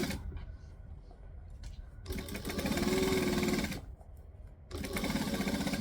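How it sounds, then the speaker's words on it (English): Domestic sewing machine stitching wrap pants with a shirred waist, whirring in two fairly quiet runs separated by a short pause, with faint mechanical rattle and low background noise before it starts. "I am continuously making it straight where I'm sewing"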